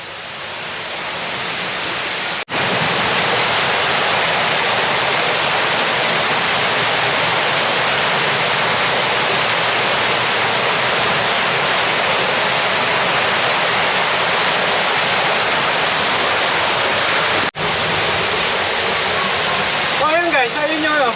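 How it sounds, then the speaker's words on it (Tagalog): Waterfall near a mini cave along the new road at Umiray, Dingalan, Aurora, pouring in a loud, dense, unbroken rush of close white water. "So ayun guys, ayun yung waterfalls nila."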